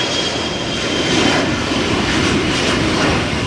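A CRJ 900 regional jet departing Amsterdam Schiphol in a crosswind gives a loud, broad, steady roar that stays close and unbroken through the brief moment, with no voices.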